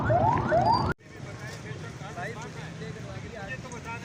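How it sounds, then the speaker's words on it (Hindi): Ambulance sirens wail at a fire rescue scene in Karachi, loud and rising in the first second before cutting off, then fainter sirens and crowd noise continue in the background. "यहाँ पर आप आवाज़ें भी सुन रहे हैं, पीछे जो है एम्बुलेंस मुसलसल यहाँ पर आ रही हैं"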